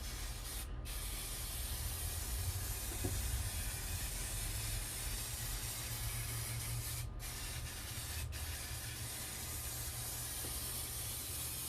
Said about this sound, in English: You can always spray glue over spray glue.